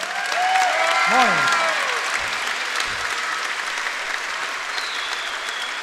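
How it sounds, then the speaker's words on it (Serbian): A kickboxing fight-night crowd in an arena gives loud, sustained applause and cheers, with a voice speaking briefly over it at the start. "Ja vas molim za jedan veliki aplauz."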